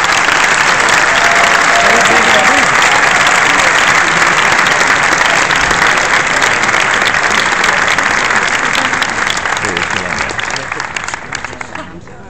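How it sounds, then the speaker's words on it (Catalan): Warm, dense applause from a festival audience welcoming director Jalmari Helander at a screening of Rare Exports: A Christmas Tale. The clapping is loud and steady throughout and thins out slightly near the end. "Rebem amb ell també un calorós aplaudiment"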